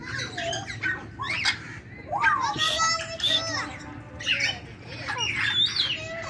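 Zoo parrots squawk and screech in sharp bursts over a busy background of children's voices and chatter, calls coming from several birds nearby.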